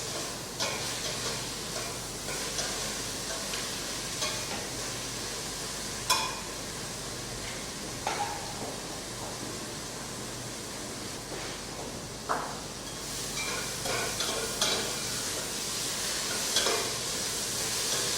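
Tomatoes and onions fry in a pan with a continuous, close sizzle and hiss, punctuated by occasional clicks and scrapes of stirring.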